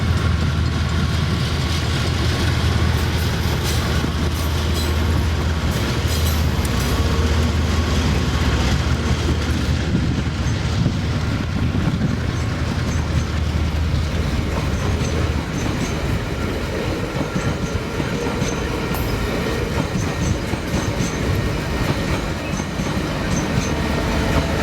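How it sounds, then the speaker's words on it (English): Transalpine train locomotives move through the Greymouth freight yard in New Zealand with a loud, continuous diesel rumble, wheels clacking and faint squeals over the rails, and no voices. "the train heads to the freight yard to be serviced, and the locos run around before heading back to the platform for the return journey."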